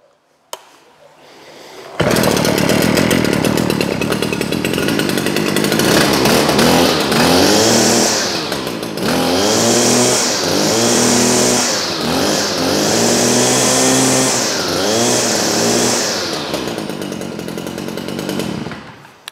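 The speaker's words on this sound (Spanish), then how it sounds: "una desbrozadora ya profesional sigue siendo de dos tiempos, pero para que veáis que es más grave" Professional two-stroke brushcutter engine starting up and running loud and close, a steady buzzing drone that rises and falls as the throttle is blipped repeatedly, with no talking.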